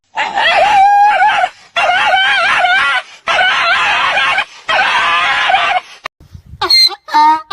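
A stray puppy by a roadside gives four loud, close, drawn-out barking cries separated by short pauses, followed by a few shorter, sharper yelps.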